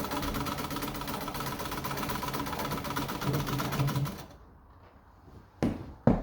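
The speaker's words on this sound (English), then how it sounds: "now we're straight stitching." Treadle-operated Pfaff 130 vintage sewing machine straight stitching, a fast even clatter of stitches heard close for about four seconds before stopping, followed by a couple of faint knocks.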